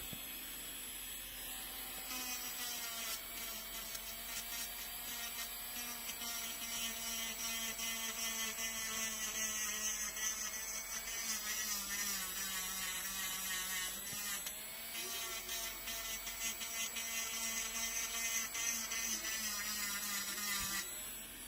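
An electric nail file drill whirs steadily through cuticle prep for a gel rebalance and fill, a continuous high mechanical hum with shifting pitch and brief dips, close and moderately loud with no talking.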